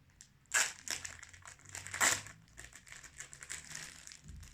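Plastic packaging around a new writing board crinkles and crackles close by as it is opened, with two sharp louder crunches followed by continued rustling handling noise.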